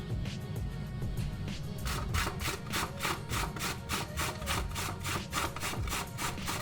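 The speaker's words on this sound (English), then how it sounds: "now I'm going to go on to grating 2 carrots" Carrots are grated for coleslaw, with rhythmic scraping strokes that start slower and then quicken into a fast, even rasping series, close and clear, with no talk.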